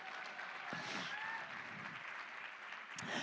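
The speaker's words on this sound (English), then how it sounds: "So give them a round of applause." Faint, distant applause from an audience at a live charity auction event, a soft wash of clapping over room noise.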